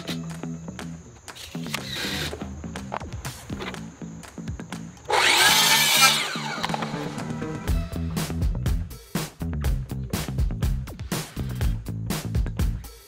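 A saw cutting a deck trim board bursts in with one short, loud, hissing cut about a second long, set among scattered clatter and other workshop sounds.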